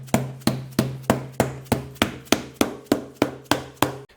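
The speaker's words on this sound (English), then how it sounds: "a mallet like this is really helpful to get the new sole seated properly" A mallet taps a new sole onto a Sidi Crossfire 3 SRS enduro boot, fourteen evenly spaced sharp knocks about three per second, each a close, firm thud with a short decaying ring.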